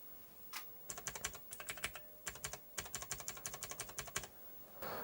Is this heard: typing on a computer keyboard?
yes